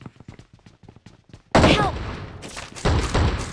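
Shotgun fire in PUBG Mobile: a sequence of quiet, rapid shots gives way to loud, close blasts with a heavy booming tail, followed by another powerful blast.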